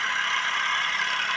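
A motorcycle engine fitted with a new homemade CDI using an IRFZ44N MOSFET runs at steady high revs. The drone is loud and continuous and close by.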